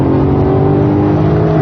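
BMW M3 GTS engine pulling hard in third gear from about 40 mph at 3,500 rpm, a loud, dense, steady mechanical roar with no talking over it.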